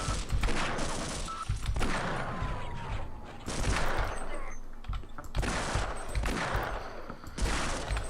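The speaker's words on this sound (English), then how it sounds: "I've just wasted most of those shots" An MP5 fires in a video game in several loud bursts of rapid automatic gunfire, separated by short pauses, with booming echoes trailing each volley.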